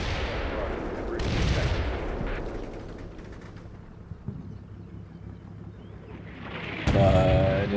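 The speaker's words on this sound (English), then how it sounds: "that artillery is just coming in hard" Artillery rounds pound down in the Combat Mission: Cold War video game, with repeated heavy blasts, rumbling impacts and wind-like noise, then a sharp loud hit near the end, while a voice talks over the battle.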